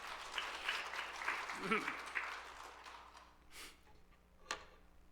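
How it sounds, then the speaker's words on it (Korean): Congregation clapping during a Korean church worship service, a moderate spell of applause fading after a few seconds, followed by a couple of sharp isolated sounds. "다시 한번 하나님께 감사 박수 한번 드려봅시다"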